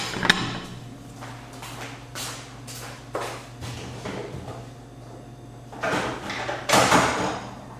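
A Dual XPR2500 car amplifier is slid out of its heavy aluminum case, making a series of close metallic scrapes and sliding rubs with uneven bursts.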